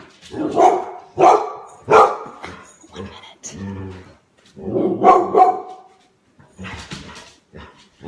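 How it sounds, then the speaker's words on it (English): A dog barks at a package delivery: a run of loud, close barks with short gaps and a few whimpering yips, and a voice speaks briefly among them. "He likes to bark when packages come because the post office lady gives him treats."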